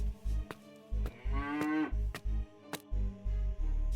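A golden-horned cow from an animated fairy tale gives one long, rising moo, loud and close, over a steady, thumping low beat that pulses throughout.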